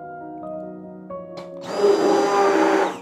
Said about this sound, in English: So now we're ready to combine the two phases together and emulsify it using a stick blender.